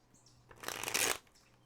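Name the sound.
tarot cards being shuffled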